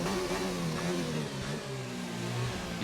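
Racing car engine in a Codemasters racing game, held at a steady loud drone with harmonic pitch that rises and falls through gear changes, without a break for the whole clip.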